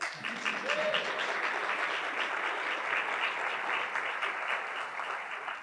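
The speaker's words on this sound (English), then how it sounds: "Insert applause here." Steady applause from an audience at a police chief's retirement ceremony, moderately distant and continuous without talk over it.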